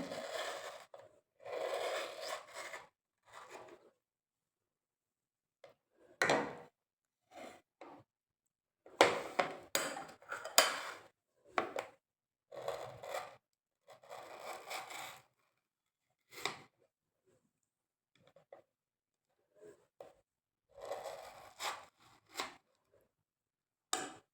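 Aloe vera leaf sliced down the middle and its inner gel scooped out, a run of short scraping and cutting strokes in separate bursts with brief pauses between, close and fairly quiet, with no talking.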